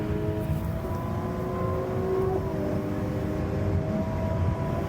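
Ferrari 296 GTB accelerating, its engine a steady, droning tone with slowly shifting pitch that holds loud and close for the whole stretch, with no talking.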